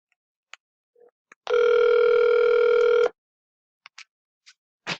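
A telephone call connects with a steady ringing tone lasting about a second and a half, loud and close, framed by faint clicks and short beeps before and after.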